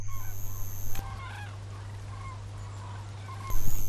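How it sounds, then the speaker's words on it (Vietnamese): A flock of cranes calls with scattered honking and bugling cries, some near and some farther off, framed by loud high tones and a steady low hum. "Những đàn sếu tìm được nhiều thức ăn ở đây"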